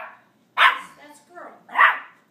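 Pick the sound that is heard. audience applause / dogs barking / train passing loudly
dogs barking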